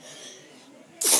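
A single short, sharp sneeze bursts out at the very end after near silence.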